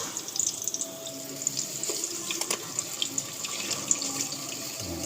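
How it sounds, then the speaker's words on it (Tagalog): Coconut milk (gata) pours into a small cooking pan while ginataang tilapia is prepared, a continuous soft splashing trickle close by with faint drips and no talking. "pwede na ilagay ko na itong gata para maluto sa ng kaunti"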